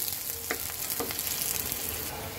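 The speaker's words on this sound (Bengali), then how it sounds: "পেঁয়াজটাকে একটু ভাজবো আমি। তো পেঁয়াজটাকে একটু ভেজে নেই" Chopped onion fries in a pan while soybean chunks are cooked in a meat-style curry, producing a dense, even sizzle close by with two short stirring scrapes, and no voices.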